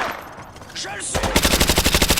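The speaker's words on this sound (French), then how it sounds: "Attention, vous tirez!" Automatic gunfire from the video game Call of Duty Modern Warfare 2 Remastered, a rapid, loud burst of evenly spaced shots that starts after a quieter opening with faint in-game voices and effects.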